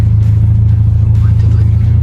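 A Volkswagen Scirocco 1.4 engine drones with a low, steady rumble, loud and close, pulling forward with little change in pitch; a voice is faintly audible.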